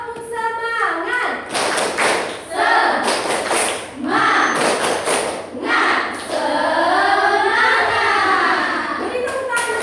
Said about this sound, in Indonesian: Kita lakukan bersama-sama ya. 1, 2, 3. Tepuk semangat.